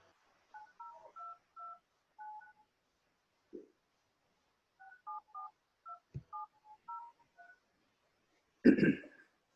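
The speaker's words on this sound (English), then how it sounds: "I'm going to try calling from my phone." Telephone keypad dialing tones from a phone placed during a municipal council session call: two quick bursts of paired beeps, a pause, then another run of tones, fairly faint, ending in a louder burst of noise.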